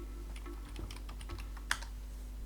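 Typing on a computer keyboard while entering terminal commands, a run of quick, light key taps with one sharper keystroke near the end, close and quiet over a steady low hum.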